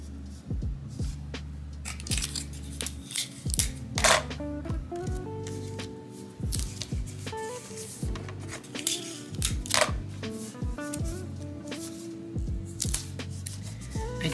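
Scissors snip repeatedly through a glossy magazine recipe page, with irregular crisp cuts and paper rustling and crinkling close by.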